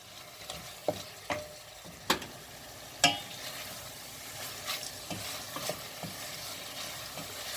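A spoon stirs potatoes and mushrooms frying in a pan, giving a soft, steady sizzle broken by several sharp scrapes and knocks at irregular intervals.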